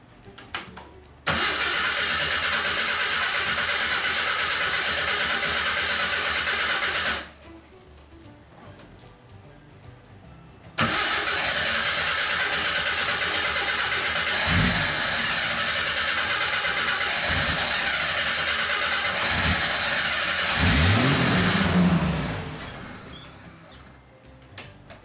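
A 1987 Jeep Wrangler engine cranks in two long, steady starter bursts with choke applied, then catches and revs with a rising roar before fading, heard up close.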